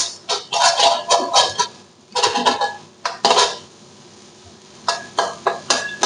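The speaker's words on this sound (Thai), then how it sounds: "ลุงก็จะคั่วไข่ให้มันสุกครับ" Eggs being stir-fried in a pan, in short bursts of clattering metal scraping and tapping as a utensil works the pan close up, with pauses between the bursts.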